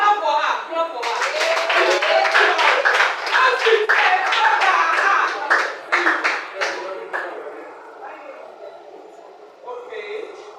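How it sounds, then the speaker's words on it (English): A group claps together during a broadcasting practical training session at a West African polytechnic, a dense burst of hand claps that fades after several seconds, with voices talking over and after it. "Clap for her. Clap for her."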